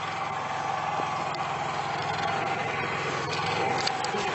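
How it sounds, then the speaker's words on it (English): A Honda inverter 3000 generator powering a camper runs with a steady, even engine drone and mechanical hum, close and constant throughout with no speech. "Here's our Honda inverter 3000 generator with our million plugs plugged into the side."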